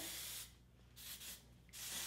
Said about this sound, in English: We're gonna take some texture spray from Moroccan Oil.